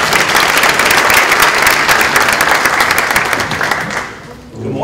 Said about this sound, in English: Let's give Scott a round of applause, everybody.